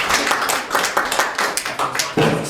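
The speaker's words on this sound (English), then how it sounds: "Give him a round of applause" Scattered clapping from a small audience welcoming a volunteer, a few hands beating in loose bursts that swell and fade over a couple of seconds, close and fairly loud.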